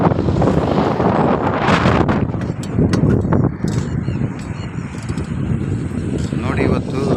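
Strong seasonal gusts batter the microphone of a cyclist on a long-distance ride, a loud, roaring buffet of wind noise that swells and dips throughout.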